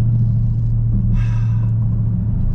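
A 2021 Dodge Durango Hellcat performance SUV on throttle coming out of a turn. Its engine gives a loud, close, steady deep rumble that holds for the whole stretch with no talking over it.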